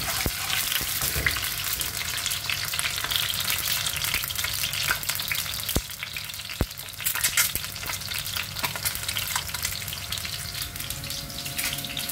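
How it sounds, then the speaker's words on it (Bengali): Eggs fry in a pan for a dinner meal, a loud continuous sizzle and crackle close by with a couple of sharp clicks and no talking. "এই যে আমার ডিম ভাজা প্রায় হয়ে গেছে"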